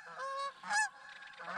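Geese honk near a fishing boat on a morning lake, giving several loud, nasal calls in quick succession, some overlapping, close by with no talking.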